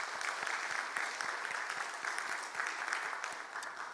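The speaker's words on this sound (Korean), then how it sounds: "우리 다시 한번 잘 왔다고 박수 한번 해주시겠어요?" A church congregation claps together in a steady, dense wave of applause to welcome new members at a Sunday worship service, sustained and even throughout with no voices standing out.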